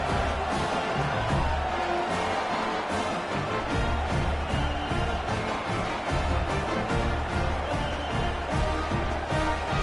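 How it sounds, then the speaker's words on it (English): A football stadium crowd at a United States Football League game roars in a dense, continuous wash of cheering after a scoring drive, steady and loud throughout. "this crowd is feeling themselves after that last drive"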